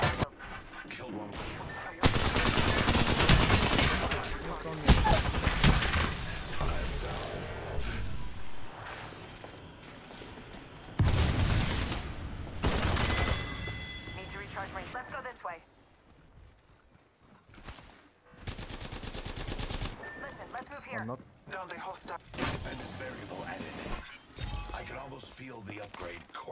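Bursts of rapid automatic gunfire in an Apex Legends match, loud clusters separated by quieter gaps of lighter shots and game effects.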